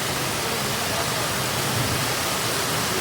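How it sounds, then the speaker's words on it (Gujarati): Heavy rain pours down in Palanpur as a dense, steady hiss that fills the whole clip without a break. No talking is heard. "પાલનપુરમાં ફૂલ વરસાદ છે"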